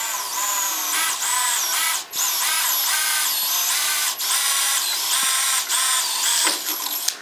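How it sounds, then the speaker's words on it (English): A power drill whines loudly and close while boring a hole during a boat trailer LED backup light install, running in bursts with brief pauses and pitch dips as the bit bites. "We're going to drill that real quick."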